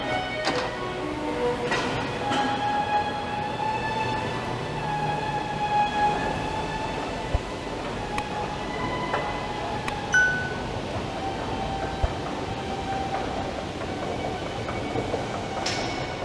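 A Line 1 subway train rumbles steadily in a large enclosed terminal station on Yonge Street, Toronto, with a sustained tonal whine and occasional clanks and hisses, no voices heard.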